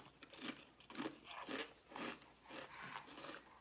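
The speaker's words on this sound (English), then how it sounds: "They sound crunchy." Close, crunchy bites into Chinese-style barbecue snack chips, with about six rhythmic chewing crunches evenly spaced and no talk.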